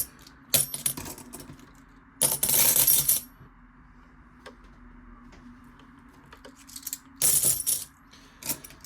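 Junk silver coins pour and clink in two bursts, a bright metallic jingle, with a few scattered single clinks and handling taps between them.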